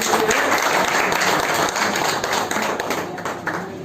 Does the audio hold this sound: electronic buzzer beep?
no